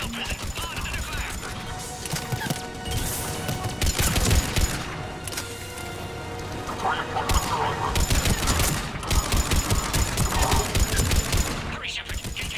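Dense rapid gunfire rattles in Mass Effect 3 combat, with bursts of automatic fire, sharp impacts and crashes repeating through the scene, loud and close, and voices speaking over the fighting.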